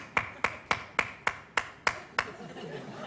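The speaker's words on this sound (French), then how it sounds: "donc applaudissements minables" Thin, sparse applause from a stand-up comedy audience: about seven sharp, evenly spaced claps in a steady rhythm that sound almost in unison, then a quiet room tone as the clapping stops.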